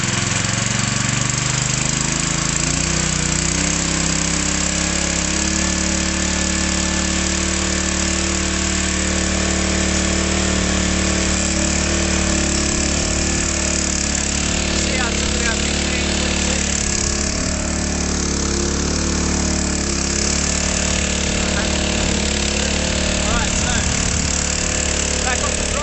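A portable pump drill's small engine runs steadily after a pull start, a continuous loud droning hum with no break, while someone talks over it.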